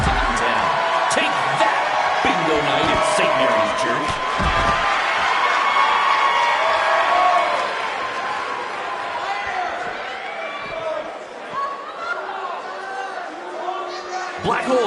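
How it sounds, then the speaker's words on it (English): A sold-out crowd roars in a wrestling video game arena, a dense wash of cheering and chatter with occasional thuds and slams, under a commentator's steady voice throughout. "We have a sold-out, record-setting crowd here for BCW tonight."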